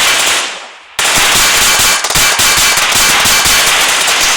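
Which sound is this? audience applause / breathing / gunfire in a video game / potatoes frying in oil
gunfire in a video game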